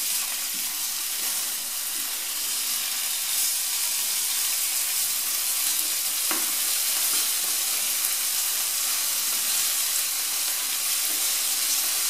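Anchovies and walnuts fry and sizzle in oil in a pan while being stirred, giving a steady, close crackling hiss throughout with no voices.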